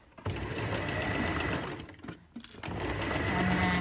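Sewing machine stitching the armhole of a wool coat, a steady close motor whir with brief pauses near the middle as the work is adjusted, then running on again.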